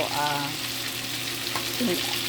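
Lapu lapu fish frying in olive oil, a steady close sizzle with a few brief pops and faint clinks through the short stretch.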